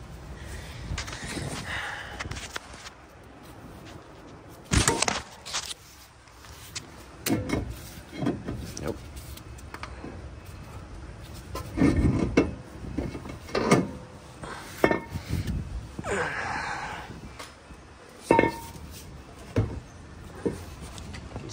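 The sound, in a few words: removing a heavy brake rotor from a car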